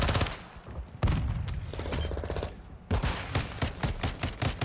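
Rapid automatic gunfire in a shooter video game, close and punchy bursts of repeated shots firing in quick rhythm with brief breaks between strings.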